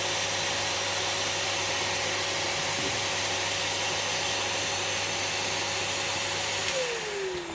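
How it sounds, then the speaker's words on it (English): A vacuum cleaner used for vacuum forming plastic drones loudly and steadily with a constant hum, then its motor winds down near the end. "Switch the vacuum cleaner off."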